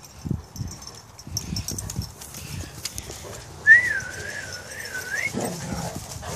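One clear human whistle rises and warbles for about two seconds, wavering up and down, amid faint rustling and a dog's soft sounds.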